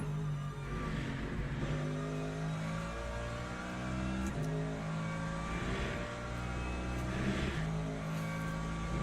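Race car engines roar continuously in the Le Mans Ultimate racing game, several cars close together with steady revving and shifting harmonic pitch as they accelerate and pass, loud and sustained throughout with no talk.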